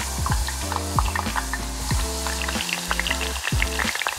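Potato chips frying in hot oil give a steady, loud sizzle with bubbling crackle, joined by occasional clinks and scrapes of stirring against the pan, with no voices.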